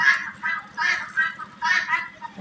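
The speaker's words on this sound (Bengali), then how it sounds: "দেখেন কিভাবে আমাদের এই একসাথে তারা গোসল করতেছে একসাথে রাজহাঁস চিনার হাঁস কীভাবে আসে" Geese and Chinese geese bathing together on a Bangladeshi poultry farm, giving repeated nasal honking calls in short bursts, fairly close and loud, with a low rhythmic splashing underneath.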